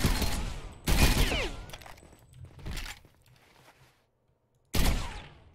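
Fully automatic Bodark rifle fire from the Ghost Recon Phantoms video game: several loud, sharp bursts of rapid shots separated by short pauses, with a final burst after a near-silent gap.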